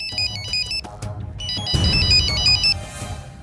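A telephone rings with a repeating electronic ringtone, bright warbling tones in short bursts, loud and close, with a thud and some background noise partway through.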